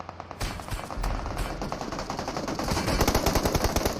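Rapid bursts of automatic gunfire crackle almost continuously in a PUBG Mobile battle, loud and dense with overlapping shots and no voices.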